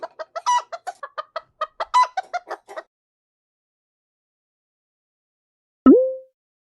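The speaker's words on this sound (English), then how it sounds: "Chicken." A chicken clucks in a rapid series of short, close clucks for a few seconds, then falls silent before a brief tonal chime.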